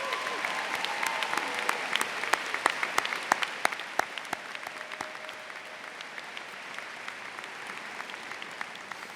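Applause for Principal Josh Blagg at a high school graduation: a crowd claps loudly with sharp individual hand claps standing out, then the clapping thins and fades over several seconds.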